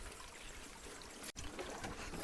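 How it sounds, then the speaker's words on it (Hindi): Water from a mountain spring trickles and streams steadily into a pool, a faint, continuous broadband rush with no voices, briefly cut by a momentary dropout midway. "यहाँ पर पानी चल रहा है"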